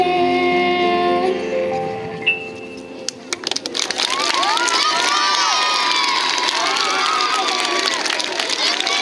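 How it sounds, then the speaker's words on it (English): A school assembly audience bursts into loud cheering and children's shouting after a few seconds of music, the crowd noise sustained and dense to the end. "Can we please have another round of applause for our"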